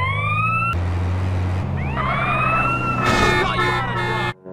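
A wailing ambulance siren in GTA San Andreas rises and falls over a steady engine rumble, loud and close, with a brief burst of clatter near the end.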